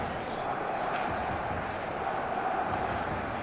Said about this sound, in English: And the matchday noise at this place is truly special.